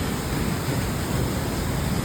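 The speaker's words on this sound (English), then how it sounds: "You turn the corner and you get this rushing water and the sound of it coming over." Rushing water of an 80-meter-high waterfall in Cameroon, a steady, loud broadband roar with no break, heard alone.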